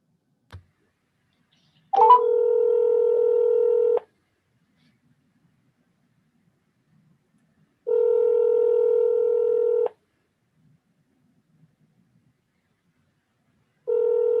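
Repeated outgoing-call ringback tones on a telephone line during a city council webinar, each steady two-second burst separated by about four seconds of near silence, with a faint click at the start.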